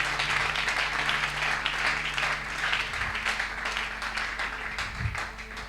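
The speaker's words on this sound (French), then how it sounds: "Est-ce qu'on peut acclamer très fort le Seigneur?" A church congregation applauds the Lord, a broad, sustained wash of many hands clapping filling the room steadily, with a low hum beneath and the applause easing slightly toward the end.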